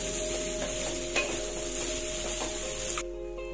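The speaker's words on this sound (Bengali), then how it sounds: "দেবো কিশমিশ, আর দেবো কাজু বাদাম। এবারে এটাকে আমি ভালো করে ভেজে নেব।" Raisins and cashew nuts fry in a pan over a low gas flame, giving a steady close sizzle with light stirring scrapes and clinks, then cutting off abruptly near the end.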